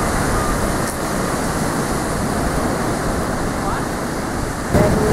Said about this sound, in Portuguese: Tá boa a onda.